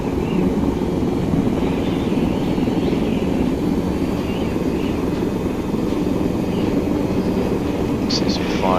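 A helicopter in the Arma 3 video game flies with a steady, loud, continuous rotor and engine drone, a faint chirp near the end.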